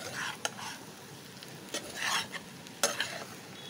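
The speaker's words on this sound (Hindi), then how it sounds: "चलिए अब इसको अच्छे से मिक्स करके अच्छे से फ्राई कर लेते हैं" A spatula stirs potato stuffing for stuffed capsicum as it fries in a pan, making a few scraping strokes and clinks over a soft, continuous sizzle. The sound is nearby and moderately quiet, with no speech.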